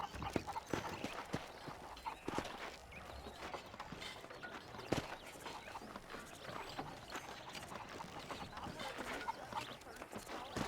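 Steady clip-clop of horse hooves on a hard surface in the video game Red Dead Redemption, continuous and close, with a busy rattling background throughout.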